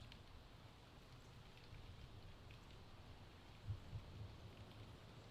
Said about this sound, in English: So the rain currently is coming kind of straight down, and the wind that we had is pretty much stopped for the moment.